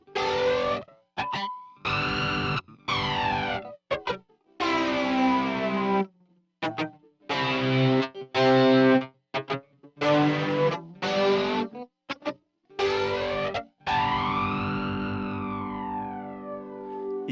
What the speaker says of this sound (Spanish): El segundo efecto añadido es el flanger.